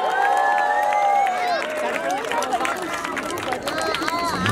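Crowd at a funk dance battle erupts in loud cheering and applause that fills the room throughout, with whistles and shouting voices rising over the sustained roar.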